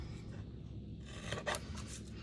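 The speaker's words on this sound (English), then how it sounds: "I'm just gonna cut basically a rectangle around the words on my little trimmer here." A small paper trimmer slicing through cardstock, heard as a brief, quiet scraping cut with a slightly sharper rasp near the middle, no talking over it.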